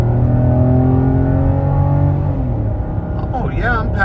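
A 2013 Volvo XC90 with a 3.2 six-cylinder engine accelerating hard up a long uphill ramp, a loud, steady engine drone from inside the cabin with rising pitch, and a voice speaking over it near the end.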